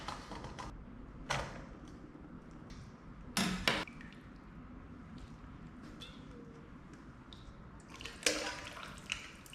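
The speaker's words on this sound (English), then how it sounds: "I like to take a bowl with the colander, and I like to just use a slotted spoon or a spider and just take out all of the" A slotted spoon scoops vegetable and chicken chunks out of homemade chicken stock into a colander set over a bowl. A few scattered metallic clinks and knocks sound over a quiet room with soft background noise.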